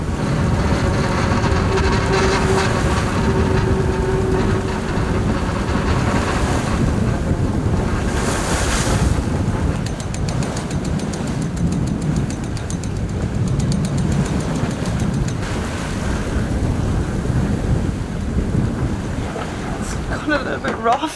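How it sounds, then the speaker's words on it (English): Rough sea breaking against and washing over the cockpit of a 46-foot sailboat, a continuous loud roar of surf and splashing with heavy wind buffeting the microphone throughout. "We have a few waves hitting the cockpit, and just, it was like a water ride there."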